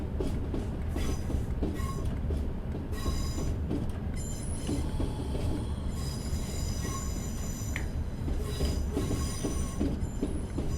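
Class 37 diesel locomotive in Train Simulator Classic, heard as a continuous rail run with repeated shrill wheel squeals riding over a steady rumble and rolling clatter, no speech.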